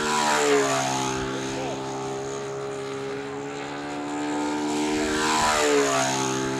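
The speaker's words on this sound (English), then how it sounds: "Jose Modesto's first official with the Yashchenko plane." Electric model airplane with a propeller passing overhead on a windy day, its whining motor tone rising and falling in pitch as it approaches, moves away and returns, fairly distant and steady.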